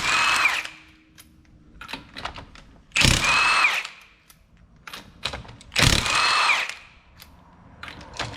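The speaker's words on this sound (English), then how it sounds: "first step to get to the front brakes, we're obviously going to need to remove our wheel" An impact tool spins aftermarket lug nuts off a Ford Flex front wheel, giving three loud, close whirring bursts with quieter clinks and handling noises between them.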